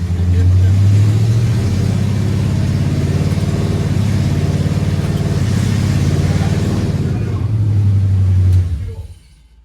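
A 1970 Nova's engine runs loud and steady, with a deep throbbing rumble that swells briefly near the end before cutting off abruptly.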